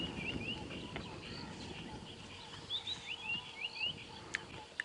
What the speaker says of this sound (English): I can definitely hear a robin of some sort, maybe one of the scrub robins.